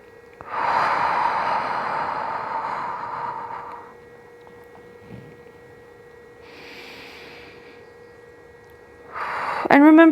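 Slow, deep breathing during a long posture hold: a loud drawn-out breath for about three seconds, a softer one a little later, then another strong breath at the end, over a steady low hum.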